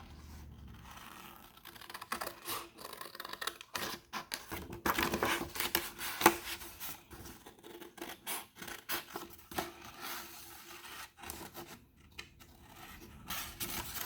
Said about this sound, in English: I'm actually going to cut that off so it's not in my way anymore.